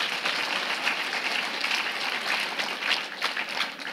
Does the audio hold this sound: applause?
yes